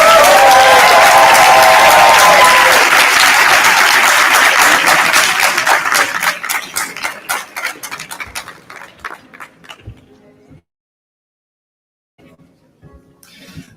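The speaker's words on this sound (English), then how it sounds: "Let's give those graduates one more round of applause." Graduation audience for international students breaks into loud, dense applause with cheering, holding steady for several seconds before thinning into scattered claps and fading to silence, with a few last claps near the end.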